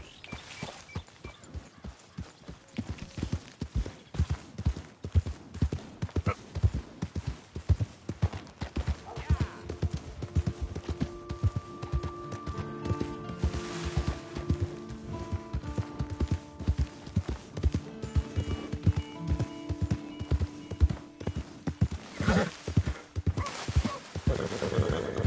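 A horse in the Red Dead Redemption 2 video game runs with steady, loud hoofbeats through most of the passage, and a game music bed and sounds rise underneath. No clear neigh stands out.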